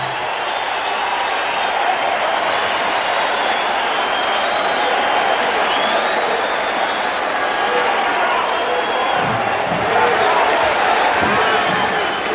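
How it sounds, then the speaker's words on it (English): A packed basketball arena crowd roars in celebration near the end of Game 7 of the 1988 NBA Finals between the Lakers and Pistons, a dense, loud, unbroken wall of cheering that holds steady throughout. "Crowd begins the celebration now."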